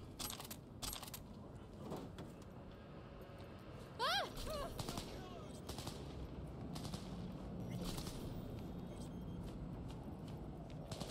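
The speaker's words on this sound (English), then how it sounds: "Can we stop shooting now?" Gunfire from the video game Cyberpunk 2077 Phantom Liberty, a fairly quiet, steady stream of shots and bursts running through the whole stretch, with a rising tonal sweep near the middle and talk mixed underneath.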